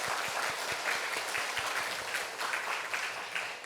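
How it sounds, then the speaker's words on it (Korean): A church congregation applauds during an afternoon worship service, a steady, moderately quiet patter of many hands clapping together in a reverberant room, with no talking over it. "한번 박수 한번 부탁드릴까요?"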